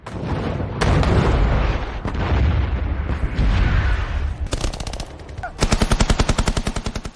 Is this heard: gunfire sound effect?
yes